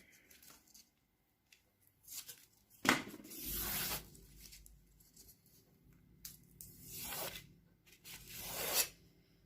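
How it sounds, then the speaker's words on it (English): Backing paper being peeled off a small craft piece for a miniature French country cottage model, giving a few quiet tearing rasps separated by near-silence, close and soft with no talking. "Peel off the paper."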